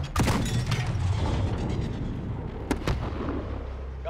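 Explosions and heavy gunfire in Modern Warfare, a war video game, with a loud dense rumble throughout and two sharp blasts near the end.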